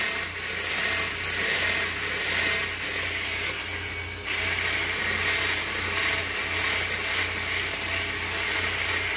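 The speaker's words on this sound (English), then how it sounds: "Go ahead and stop the blender over here." A blender whipping chocolate Oreo cheesecake filling runs steadily with a loud whirring, grinding motor noise that briefly dips in pitch partway through, with no talking.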